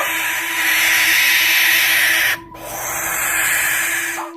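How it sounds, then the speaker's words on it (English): Barn owl giving a long, harsh, hissing screech, loud and close, broken by a brief gap before a second drawn-out screech. "Barn owl."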